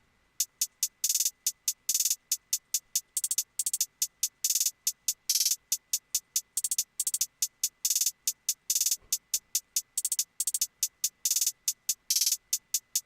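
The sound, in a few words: trap hi-hat pattern in FL Studio beat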